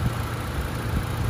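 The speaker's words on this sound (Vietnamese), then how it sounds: "Máy nổ rất là êm các bác nhá, không có rung giật gì cả đây." A 2008 Toyota Innova engine idles smoothly, a steady low even rumble with no rough pulses, running alone at close range.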